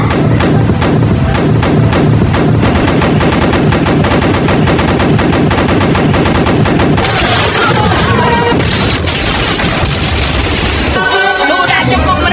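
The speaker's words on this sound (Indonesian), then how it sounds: "Perang pun dimulai dengan hujan peluru meriam ke arah kapal Kapten Nobita." Cartoon cannon barrage aimed at a pirate ship: a dense, loud run of rapid booming shots with crackling bursts, thinning near the end into scattered blasts and debris.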